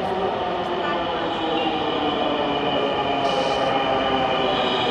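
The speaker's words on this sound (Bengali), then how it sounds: "আমাদের ট্রেন চলে এসছে" A metro rail train pulls in with a steady mechanical rumble and hum that holds at a constant level, joined by a brief high hiss partway through, in an enclosed station.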